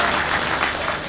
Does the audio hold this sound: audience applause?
yes